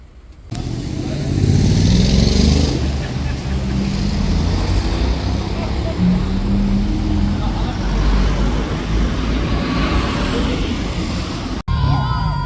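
A Porsche GT3 RS drives past during car spotting, its engine roaring loud and steady through most of the stretch before cutting off abruptly near the end.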